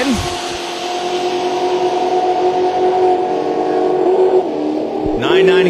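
A red Corvette runs down a drag strip, its engine roaring steadily and loud from near range, rising in pitch through the pass. A track announcer talks over the noise the whole time.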